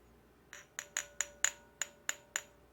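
A hard plastic Philips dimmable LED filament bulb, warm glow A15 with E17 intermediate base, tapped eight times in an uneven rhythm, each a bright glassy click with a short ring, close and clear against quiet background.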